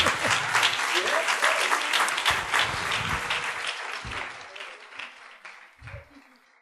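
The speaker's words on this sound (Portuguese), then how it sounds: "Aplauda-se a si mesmo." Applause at a religious seminar in McAllen, Texas: dense clapping from an audience that stays strong, then thins and fades toward the end, with a few low thumps near the close.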